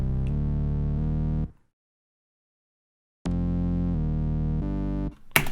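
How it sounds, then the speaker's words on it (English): An Electra X synth lead is played in a low octave as a bass line, giving bright, buzzy sustained notes. One short phrase is followed by a silent pause, then another phrase of repeated notes. "It's just like this lead played in a low octave."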